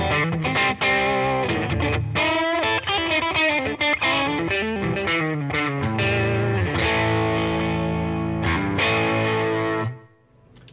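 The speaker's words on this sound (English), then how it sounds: "a nice light bluesy sort of overdrive sound" A guitar playing through a Peavey Vypyr Tube 60 amp on light, bluesy overdrive, warm and slightly gritty, with chords and single notes sustaining before cutting off at the end.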